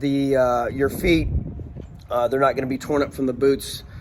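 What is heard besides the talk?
No distinct noise like a dog, phone or traffic.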